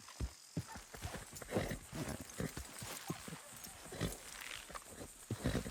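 Hooves clop steadily amid rumbling and creaking, with a horse snorting, the whole scene noisy and close, as horses pull in the video game Red Dead Redemption 2.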